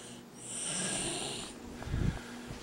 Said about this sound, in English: Started snoring recently.